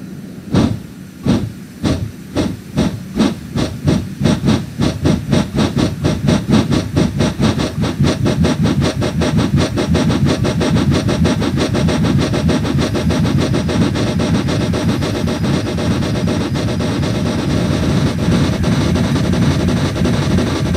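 A Hawthorne Leslie 0-4-0 saddle tank steam locomotive in Train Simulator pulls away, its loud chuffs starting slow and distinct, then quickening into a rapid, steady beat.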